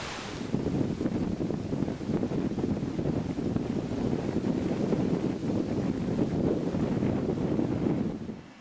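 Strong wind gusting around a small wind turbine set among trees, a continuous loud rushing roar buffeting the microphone for the whole stretch.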